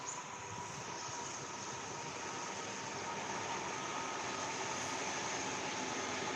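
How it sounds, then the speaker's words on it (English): A local train from Melbourne, Australia passes as a steady, faint mechanical rumble and hiss with a faint whine above it, swelling slightly toward the end, with no talking. "I've got the train coming behind me now."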